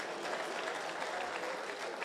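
Audience applause at a county security forum, a dense, steady patter of many hands clapping throughout the short moment, fairly close.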